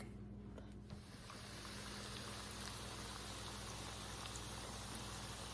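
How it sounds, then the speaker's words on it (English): Crab cakes fry in hot oil with a dense, steady crackle and sizzle, close and continuous, starting with a brief louder burst as they go into the pan, no voices. "They are frying up. I'm putting them in the hot oil."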